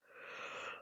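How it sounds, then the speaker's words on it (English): A single drawn-out human yawn, breathy and close, rising and fading in under a second with no talking. "that was such a hideous yawn"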